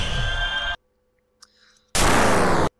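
Layered sound effects for emeralds hovering up into the air: a loud sustained whooshing burst, a gap with a faint blip, then a second dense noisy swell, close and without talk.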